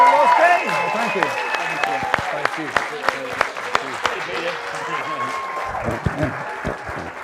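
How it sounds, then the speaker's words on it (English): A live audience gives a big round of applause for the guests at a Scottish Memories stage show. Dense clapping starts loud and slowly thins out, with voices calling out over it. "would you please give a massive round of applause for my guest tonight"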